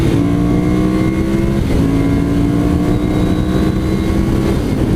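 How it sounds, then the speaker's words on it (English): A 2014 Ducati Monster 796 motorcycle accelerates, its engine a loud, steady drone held close by for the whole stretch, the pitch climbing slightly, with no talking. "This bike has the acceleration you need."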